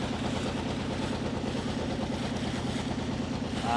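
Motorboat crossing the Meghna river from Bhairab toward Ashuganj, its engine droning in a steady, close, even rumble with a light wash of water, no talk over it.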